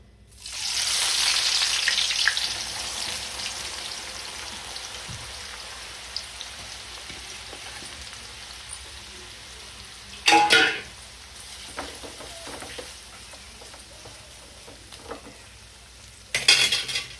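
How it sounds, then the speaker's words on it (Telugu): Sliced onions deep-fry in hot oil for butter chicken, a loud burst of sizzling right after they go in, then a steady crackling fry with occasional sharp stirring scrapes and clatters. "ఉల్లిగడ్డ డీప్ ఫ్రై చేయాలి"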